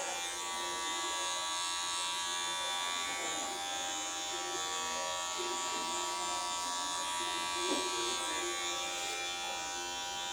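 An electric trimmer with a fine blade buzzes steadily while shaving stubble close to the face, a continuous high hum running unbroken and near.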